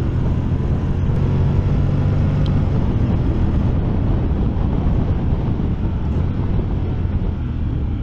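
Engine of a 2023 Honda X-ADV scooter while riding, a steady loud drone mixed with heavy wind rush that continues unbroken throughout.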